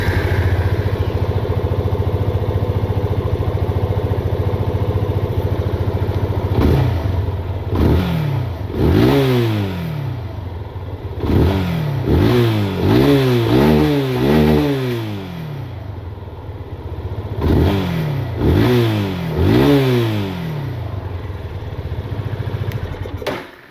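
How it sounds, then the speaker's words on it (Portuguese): Yamaha FZ25 motorcycle exhaust, loud and close, idling with a steady burble and then blipped through a series of sharp rising-and-falling revs, some in quick bursts, before settling back to idle. "E agora o som do escapamento da motoca."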